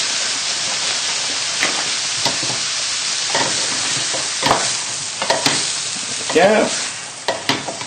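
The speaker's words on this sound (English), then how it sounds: "give that a good stir in" Plain flour is stirred into a chicken supreme sauce in a hot pan, a continuous close sizzle broken by scraping spoon strokes that grow busier toward the end, with a brief word spoken.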